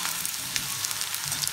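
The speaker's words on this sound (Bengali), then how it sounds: "আলুটাকে একটু ভেজে নেব" Potatoes frying in hot oil in a pan for a Bengali note stem dish, a close, steady sizzle with small crackling pops and no voices.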